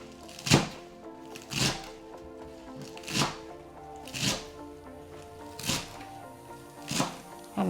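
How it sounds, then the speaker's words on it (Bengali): A knife chops fresh coriander leaves on a cutting board for a beef curry. Six or seven sharp, separate thunks fall at a steady, unhurried pace, each about a second apart, close to the listener, with no talk. "এখানে ধনে পাতা কুচি করে নিলাম"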